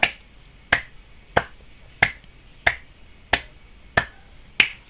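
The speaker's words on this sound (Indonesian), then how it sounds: "Aku mau tepuk tangan 10 kali ya" A single person's hands clap sharply and loudly, about eight evenly spaced claps in a steady rhythm, close by and with no other sound.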